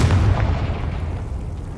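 A Confringo explosive spell goes off in Hogwarts Legacy as a deep, rumbling blast that fills the whole stretch, loud and booming with a heavy low end that slowly fades.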